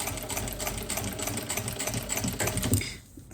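A sewing machine stitches a kurti with a fast, steady mechanical chatter close by, running without pause and then stopping just before the end.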